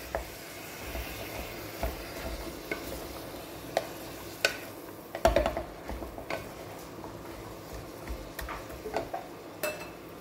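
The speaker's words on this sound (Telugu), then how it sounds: "తోటకూర కాడలన్నీ కూడా బాగా కలుపుకోవాలి" Amaranth stalks stirred in a pan for a Telugu thotakura kadala senagapappu curry, faint low sizzle under irregular wooden and metal scrapes and knocks against the pan, near and without speech.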